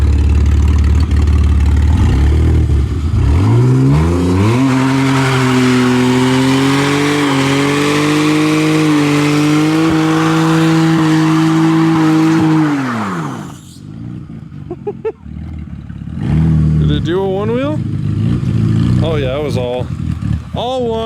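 A $300 budget BMW E46 drift car, in need of some work, revs hard while spinning a single wheel. The steady high-pitched roar holds for about ten seconds, then drops away into shorter revs and blips as people talk nearby.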